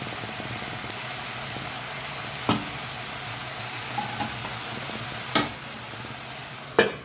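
Vegetables seasoned with turmeric, jeera powder, pepper and salt cook covered on a low flame, giving a steady moderate sizzle broken by three sharp clinks or taps.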